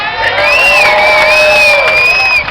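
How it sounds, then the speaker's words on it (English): A large crowd at the San Francisco Gay Pride rally cheers loudly and steadily for a speaker, with high whoops and shrill shouts rising above a dense roar of voices. "yeah, you can cheer for that."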